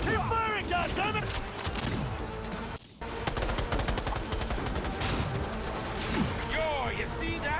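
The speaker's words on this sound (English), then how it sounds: "Keep firing, goddammit!" Rapid bursts of gunfire from the Cyberpunk 2077 video game, dense and continuous with a brief drop near the three-second mark, layered with game music and sound effects.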